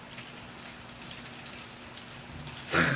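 Rain comes down outside by big glass doors as a quiet, steady hiss of drops, rising into a brief louder gush of water right at the end.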